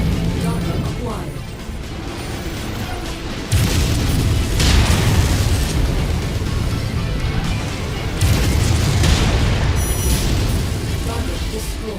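A booming explosion as a target is destroyed in the MechWarrior 5: Mercenaries game, with heavy rumbling blasts and crashing debris over continuous mech combat noise, loud and sustained across the whole stretch.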